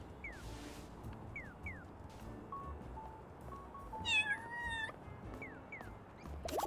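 A cat in the video game Little Kitty Big City meows several times in short rising and falling calls, including a drawn-out wavering meow midway, over a low, busy background ambience.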